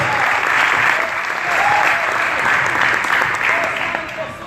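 A church congregation gives a sustained round of clapping in praise, loud and steady throughout with a faint voice underneath.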